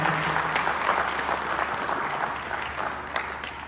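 Sustained audience applause at an energy conference hosted by an electrical engineering department, a full room clapping continuously at steady loudness.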